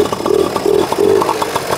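A small folding Honda motorcycle engine fires up close by and keeps running with a steady, buzzing putter of rapid, regular pulses. No voices are heard.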